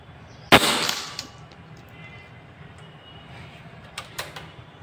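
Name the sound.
Evanix Vortex air rifle shooting slugs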